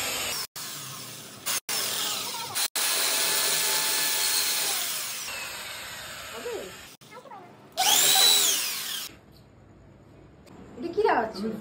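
Power drill boring a hole, running loud in long sustained bursts with short stops between them, while people talk over it.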